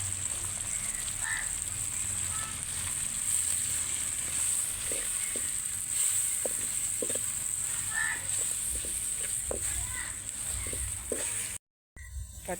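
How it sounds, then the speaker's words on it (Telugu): Raw tamarind broth, made from boiled green tamarinds with chili powder and salt, sizzles in a hot pan with a steady bright hiss, light stirring clicks and knocks scattered through it, and a brief dropout near the end. "పచ్చి చింతకాయలు ఉడకబెట్టి దాంట్లో తీసిన పులుసు ఇది చూడండి. దాంట్లో పోస్తున్నాం ఇప్పుడు."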